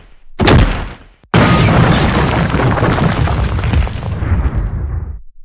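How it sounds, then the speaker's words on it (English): A van explodes in a video game: a sharp blast, a brief gap, then a second massive roaring explosion that sustains and rumbles for several seconds before cutting off. "We just destroyed Caesar's van."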